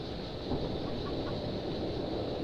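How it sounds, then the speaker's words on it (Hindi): Soft clucking of a chicken in the video game Evil Nun over a constant noisy hum, short irregular clucks close by with no speech. "तो बस मुर्गी का साउंड आया जा रहा है"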